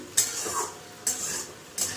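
Goat meat with potatoes frying in a pan, stirred three times by a utensil: sharp scraping strokes recur about every second over a quiet, steady sizzle, close and fairly soft.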